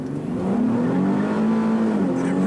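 A 2016 Nissan 370Z with its 3.7-litre V6 drones close by in a steady, throaty rumble, with a slight rise and fall in pitch as the engine holds revs, with no voices.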